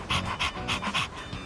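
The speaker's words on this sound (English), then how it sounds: "He doesn't bite, does he? I'm actually a little afraid of dogs." A dog pants in Persona 3 Reload, rapid rhythmic breathy huffs repeating about five times, close and fairly loud.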